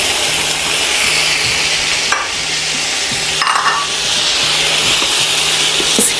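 Chopped tomatoes sizzling in a hot pan, a steady bright hiss with rhythmic scraping and stirring strokes repeating every second or so, close and continuous with no talking.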